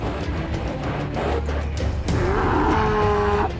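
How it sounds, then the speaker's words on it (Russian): Fighting bulls, fattened for the ring in Muscat, Oman, bellow in long, deep moos over a noisy outdoor crowd, the calls rising and overlapping as they build toward the fight. "Мычат"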